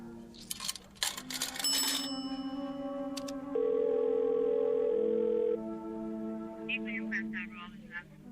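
Telephone sounds in an old-time radio drama: clicks and handset rattles, then sustained tones like a dial tone and a ringing line hum steadily for several seconds, with a faint voice stirring near the end.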